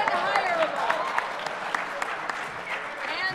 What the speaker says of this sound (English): so you guys all are clapping